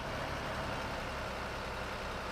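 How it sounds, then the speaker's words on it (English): A truck engine drones in the TruckersMP driving game. It is a dense, steady, rumbling hum that stays loud and unchanging throughout, with no talk over it. "you can hear the person's engine"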